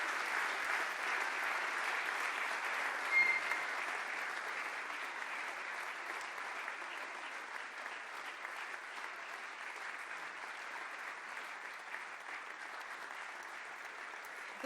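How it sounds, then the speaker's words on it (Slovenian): An award-ceremony crowd, at a Slovenian Woman of the Year gala, applauds in a long, steady roar of clapping that stays even and somewhat distant throughout. "Tudi zanje en gromozanski aplavz."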